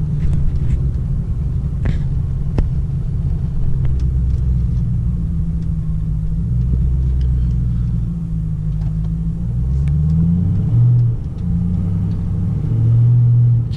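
A car driving on a snowy road gives a continuous close low engine rumble that swells into a few revs and gear changes, loud and steady throughout.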